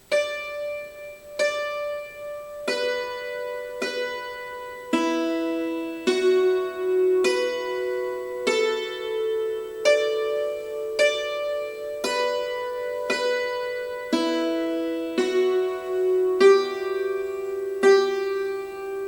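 A hammered dulcimer plays the first notes of each measure of 'French Girls Waltz', single struck string notes ringing out one at a time at a steady pace, each sustaining long with bright overtones, no voices.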